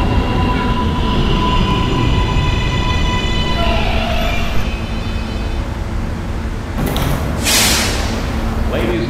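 An R143 subway car on the New York R line rumbles steadily along the track toward 86th Street, a constant loud roar with a brief rising wheel squeal, while a voice speaks over it.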